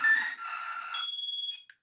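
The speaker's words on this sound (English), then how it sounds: "you can also start the beep. So if I do that, oh, that's a horrible screaming noise" A Potensic Atom drone's locator beeper sounds a loud, shrill electronic tone that holds steady for about a second and a half before cutting off, close by indoors.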